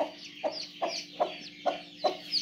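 A hen clucks while pecking at wheat, giving short, regular clucks about every 0.4 seconds, close by and moderately loud, with no talk.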